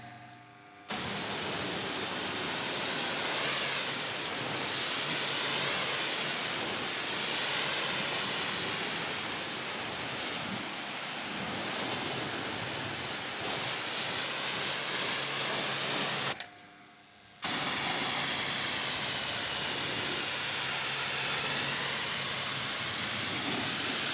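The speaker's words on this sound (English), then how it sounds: "the silky smooth suds were then thoroughly rinsed off with a 40-degree nozzle" A pressure washer fitted with a 40-degree nozzle rinses suds off the white paintwork of a Porsche Boxster, a loud, steady broad hiss of spraying water that breaks off briefly and then resumes.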